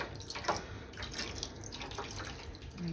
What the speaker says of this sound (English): I'm going to add, first of all, some water